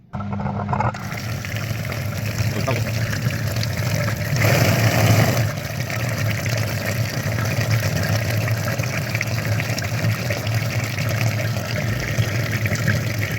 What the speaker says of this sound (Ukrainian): миємо фільтр